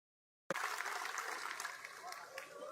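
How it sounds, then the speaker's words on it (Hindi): Loud, sustained clapping from a crowd at a political address in Karanpur bursts in after a short silence and continues steadily without letting up. "एक बार जोरदार तालियां बजा के"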